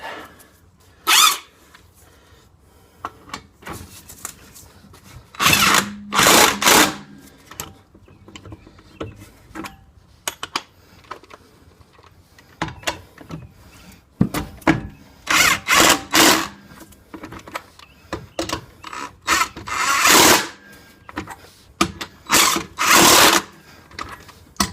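A power tool whirs in repeated short bursts with pauses between them during front brake work on a 2009-2015 Cadillac CTS-V, each run moderately loud against a quiet background.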